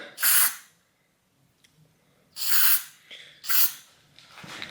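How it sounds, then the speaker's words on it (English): Three short hissing bursts from an aerosol can of heavy-duty silicone spray, sprayed into a rusted, seized bicycle suspension fork, separated by pauses, close and fairly loud, followed by a softer fourth spritz. "use some heavy-duty silicone spray and spray this in here."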